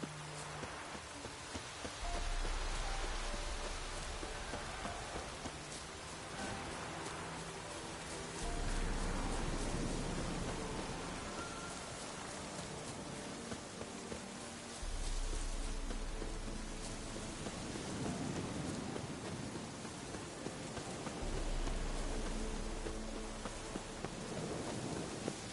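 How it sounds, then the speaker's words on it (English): Steady rain falls in The Witcher 3 video game, a continuous broadband hiss with low rumbles that swell and fade every several seconds, with no voices. "Looks like rain."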